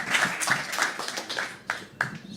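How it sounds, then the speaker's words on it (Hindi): Audience gives a short burst of applause for a performer named Raghu, individual claps audible and close, thinning out into a few last sharp claps. "दोस्तों, जोरदार जोरदार जोरदार तालियां रघु के लिए।"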